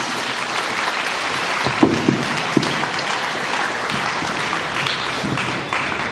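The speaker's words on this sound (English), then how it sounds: "Can I have the audience a big round of applause?" Audience applause greets the chief guest at a school's annual sports day celebration, a steady wash of clapping with a few sharper claps standing out, holding evenly throughout.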